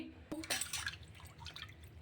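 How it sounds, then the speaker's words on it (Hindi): Water splashes and drips as an item is rinsed in a home kitchen, with a few irregular wet spatters and trickles at close range and low volume. "तो अब मैं आ गई हूँ किचन में और सबसे पहले मैं इसे पानी से अच्छे से साफ़ कर लूँगी"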